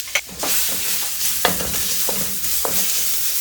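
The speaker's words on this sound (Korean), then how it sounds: "올리브 오일을 부어주시고 마늘 1큰술 넣고" Garlic sizzles steadily in hot olive oil, a continuous bright crackle with occasional clinks of a utensil stirring the pan.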